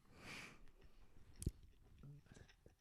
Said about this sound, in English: He's munching on his pizza.